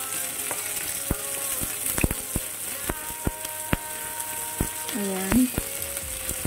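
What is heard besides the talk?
garlic and shallots sautéing in oil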